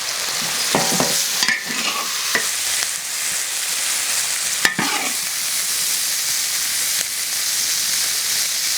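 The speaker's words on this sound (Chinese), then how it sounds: "然后再炒一下菜， 把它浇在鱼上面。" Vegetables are stir-fried in a hot wok with chopped chili, giving a loud continuous sizzle with scraping stirs and clanks of the spatula throughout.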